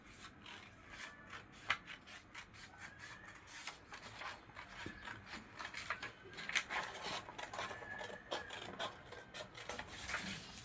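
Scissors cut through a paper pattern for a size 38 katori blouse, giving faint, repeated close snips and rustles of paper throughout.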